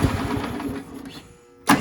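An old, long-idle Cub Cadet lawn tractor engine cranks with a rough, churning mechanical rhythm that fades, then catches again briefly at the end, close and fairly loud.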